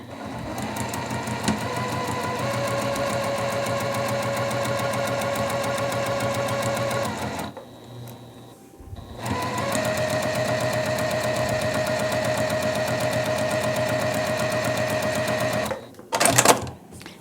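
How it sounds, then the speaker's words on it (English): Sewing machine stitching a flying geese unit for a sawtooth star quilt block, a fast steady mechanical whir running for several seconds, a short pause, then a second long run ending in a few clunks. "So let's go ahead and go over to our machine. And I'm actually going to just sew right to the inside edge of this line."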